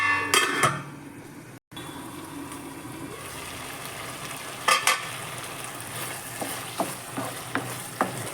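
Thick eggplant masala bubbling and sizzling in oil in a pan, with a steady frying hiss and occasional stirring clatters, close and fairly loud.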